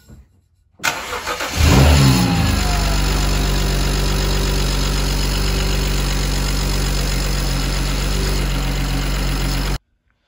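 A BMW E92 335i engine turns over, catches and settles into a loud, steady idle after a spark plug check aimed at a lumpy idle, running alone without talk until it cuts out abruptly.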